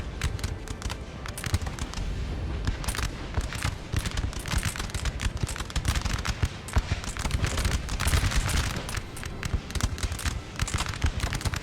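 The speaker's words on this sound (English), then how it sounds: "So they're surrounding the house, but they're not going in, they're just shooting at it." Continuous musket volleys and scattered shots crackle from troops besieging a house in the Napoleon: Total War game, a dense, steady battle din of rapid overlapping reports with no voices over it.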